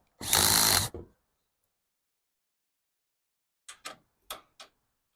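A power drill drives a long screw into wood in one loud, close burst of whirring lasting under a second, followed by silence and then a few short clicks and knocks.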